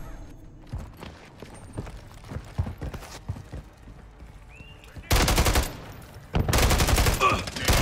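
Rapid bursts of automatic gunfire in the video game Call of Duty: Modern Warfare 3, loud and close, in two sustained volleys after a stretch of quieter clicks and thuds, with occasional voices.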